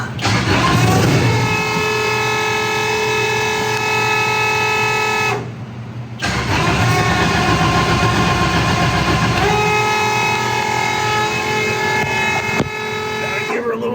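A race car engine cranks, catches and revs, a loud, harmonic-rich roar that drops out briefly before firing up again and holding a steady buzzing idle, with a person talking nearby.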